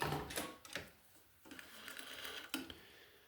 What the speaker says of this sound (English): When you sew on the machine, I would always recommend to take some scraps that have the same thickness as your actual project and just sew a test.